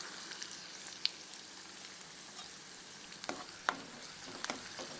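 Finely chopped onion added to garlic browning in hot oil for a mixed vegetable dish, giving a quiet, steady sizzle with a few sharp crackles and pops, no voices.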